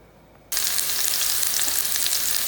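Shrimp with garlic and oil hitting a hot pan, a quiet start then a sudden loud, steady sizzle and crackle of sautéing that carries on close and unbroken.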